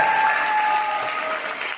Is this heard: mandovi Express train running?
no